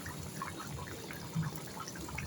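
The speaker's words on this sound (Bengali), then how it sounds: "পানিটা সুন্দর বলক উঠে গেছে" Water at a rolling boil in a cooking pot, a soft, steady bubbling and trickling that stays faint and low throughout, with no talking.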